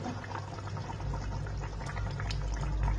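Katla fish curry bubbles in a pot, a steady close simmer of gurgling, popping liquid that grows slightly louder over a few seconds.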